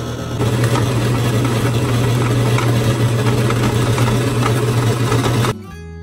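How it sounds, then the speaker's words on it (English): A KitchenAid stand mixer running steadily while mixing strudel dough, a loud continuous motor hum with a rattling whir that stops abruptly near the end. "turn the KitchenAid on."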